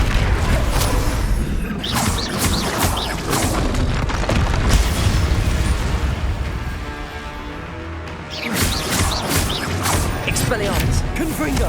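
Spell combat in Hogwarts Legacy, including a Confringo fire blast, brings a run of loud booms and crashes with whooshing swipes, bursting in clusters with a brief lull midway, while voices sound intermittently.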